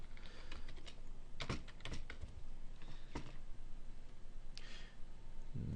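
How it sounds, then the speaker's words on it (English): Keys clatter on a computer keyboard as a user ID and password are entered, irregular quiet clicks with a few sharper taps, close and faint, no talk. "You type in your credentials, your user ID, and your password."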